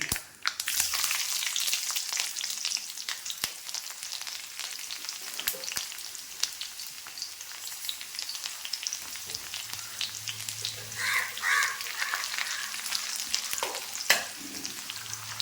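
Mustard seeds and small shallots frying in a little oil for a cabbage dish, a continuous crackling sizzle with sharp popping bursts and stirring sounds, close and alone without talk.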